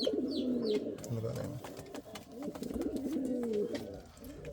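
Indian Fantail pigeons cooing in a breeding loft, repeated low throaty coos running steadily through the clip at close range, mixed with someone talking over them.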